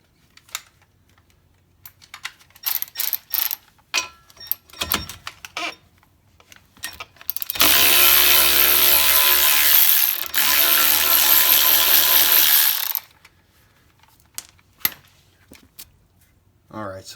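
A 15mm nut comes off the lower ball joint of a Ford Escape with quick bursts of ratcheting clicks, followed by a loud, sustained whir of a power tool lasting several seconds, then more scattered clicks, with talk in between.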